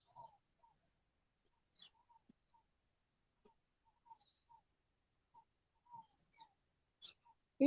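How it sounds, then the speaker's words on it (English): Sparse, faint morning bird chirps and calls scattered across a quiet outdoor scene, short isolated notes at irregular intervals, with a louder thump at the very end. "The birds are happy."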